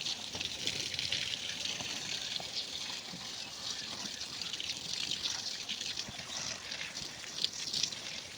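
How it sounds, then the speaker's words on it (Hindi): Water poured over seeded plant pots makes a steady, continuous splashing and trickling hiss at close range, with no pauses. "सारे में पानी डाल चुकी हूँ"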